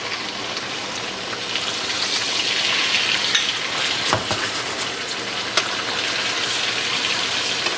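Turned garden vegetables fry gently with garlic in a pan, giving a steady, close sizzle and hiss with a few small pops and a soft scrape partway through.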